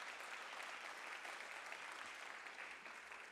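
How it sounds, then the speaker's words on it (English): An audience at an all-candidates political debate in Niagara West, Ontario applauds steadily, a dense even wash of clapping that holds at a constant level throughout with no voices over it. "Can we give them a round of applause for coming?"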